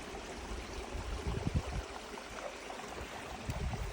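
A little creek flowing through a wetland amid conifers and wildflowers near the Crater Lake west rim, its soft, steady trickle and gurgle faint and continuous, with a few brief low thumps, and no talk.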